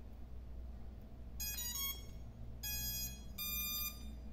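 SJRC F11S drone emitting bursts of bright electronic beeps during a connection fault with its radio controller, with three clear beep groups sounding fairly close over a steady low background hum.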